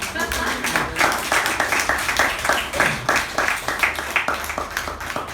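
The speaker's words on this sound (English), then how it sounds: "Can I have a round of applause for myself?" Meeting members applaud the speaker in a rhythmic, loosely synchronized clapping that pulses steadily throughout, sounding somewhat compressed, as if coming over an online call.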